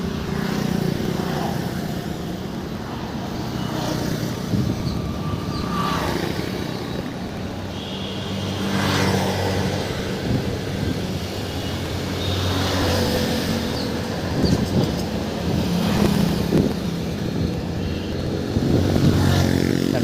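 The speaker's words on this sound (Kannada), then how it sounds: "TVS ಗಾಡಿ ಅದು." A TVS motorcycle rides past on a dusty road, its engine a steady, fairly loud drone that swells and eases over several seconds, with no voices.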